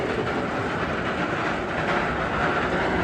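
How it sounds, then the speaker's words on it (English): Gatekeeper, a wing roller coaster at Cedar Point, roars past at close range, a loud continuous rumble with rattling wheels on track, steady for the whole stretch. "over here we have Gatekeeper, the park's wing coaster that opened in 2013"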